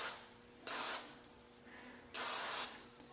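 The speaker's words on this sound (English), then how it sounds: "I'm going to just blast them with rim oil right quick." Aerosol gun oil sprayed onto firearm internals during cleaning, two sharp hissing bursts about a second apart, close and loud against a quiet room.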